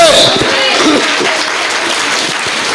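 A church congregation at a revival meeting in Bengaluru breaks into applause, a dense, steady wash of clapping that holds close and loud for the whole few seconds, with a voice carrying over it.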